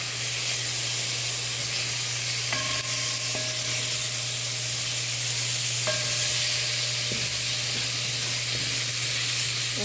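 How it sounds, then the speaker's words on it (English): Smoked herring with carrots, bone and fish eggs stirred in a hot pan, a steady loud sizzle and hiss with a few scraping spoon strokes, near and without talk. "I'll give this a mix."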